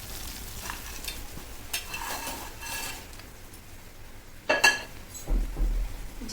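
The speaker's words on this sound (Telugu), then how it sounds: "ఇప్పుడు మనం ఏపి పెట్టుకున్న చికెన్ పీసెస్ కూడా ఇందులో వేసేద్దాం." Chicken pieces for chicken pickle go into a pan and are stirred, with intermittent scraping and clattering of a utensil, a sharp metallic clink, and a low sizzle underneath.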